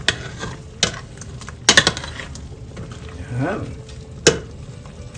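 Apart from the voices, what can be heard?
pork adobo frying with garlic in pan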